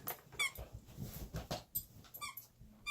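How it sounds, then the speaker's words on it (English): A dog repeatedly squeaks a squeaky toy, short high squeaks in irregular bursts, fairly quiet and close, with faint whimpers. "on the bed, squeaking his toy"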